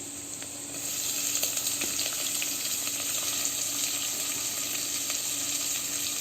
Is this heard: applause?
no